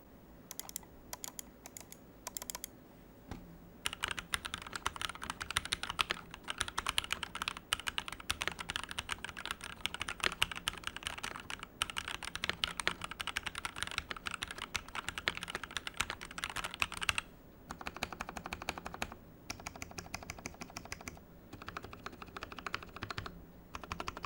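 Steady, fast typing on a mechanical keyboard with Gateron Yellow switches, a dense patter of crisp key clicks close up, with a few brief pauses and no voices.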